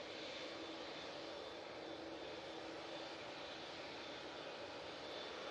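An easyJet airliner departing Manchester Airport gives a faint, steady jet-engine rumble heard from afar, with no speech.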